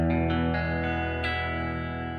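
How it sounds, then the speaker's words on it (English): Clean electric guitar with no effects, played in a classic country style: sustained, ringing chords and notes that swell and slowly decay, close and steady, with no voices. "Now here's the sound of my guitar with no effects on it."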